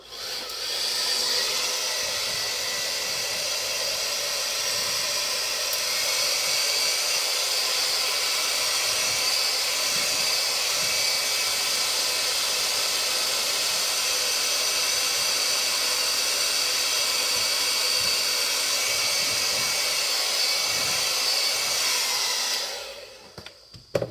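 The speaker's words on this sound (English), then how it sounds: "So I've actually never used the dryer in the kitchen, the hair dryer." A hair dryer on cool air blows steadily for over twenty seconds in a kitchen, a loud constant hiss and whir that cuts off abruptly at the end.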